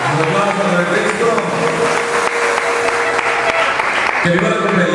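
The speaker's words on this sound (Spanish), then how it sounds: "Un aplauso para Cristo." Congregation clapping at a Quichua church choir gathering in Guayaquil, a loud, dense wash of applause sustained throughout with voices mixed in underneath.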